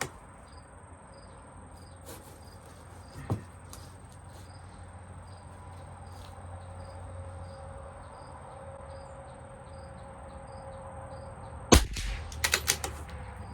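A CZ 457 LRP rifle fires RWS Special Match ammunition at 50 yards: one faint crack early, then a sharp close shot followed by a quick cluster of smaller reports, all over a steady chirp of crickets.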